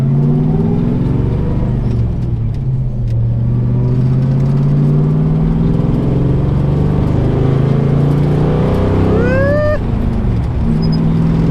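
A 1957 Chevy with new exhaust pulls hard through the gears while driving, its loud engine drone rising steadily in pitch and then climbing sharply near the end, close and dominant.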